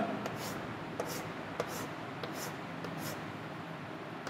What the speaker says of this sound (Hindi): अब हम लोग लिख सकते हैं सीरियल नंबर